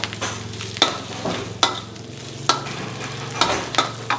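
Fish balls stir-fry in hot oil for a yellow-noodle dish, with a constant close sizzle and sharp, regular spatula clanks against the pan roughly every second.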